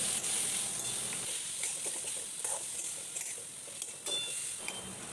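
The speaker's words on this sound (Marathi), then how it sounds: "अर्धा चमचा हळद घालून आता हे सर्व व्यवस्थित तळून घेऊया" Turmeric and spices frying in a pan with tomato for a potato bhaji: a steady, close sizzle and hiss, broken by soft stirring scrapes, with no talking.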